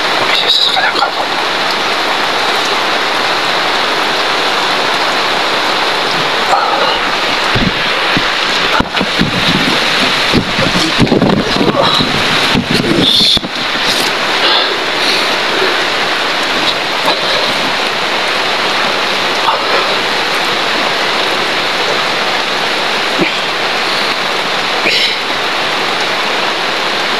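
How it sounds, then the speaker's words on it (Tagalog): Heavy rain pours in a dense, steady roar that stays loud for the whole stretch, with a few rougher, louder bursts partway through. "Malakas ang ulan."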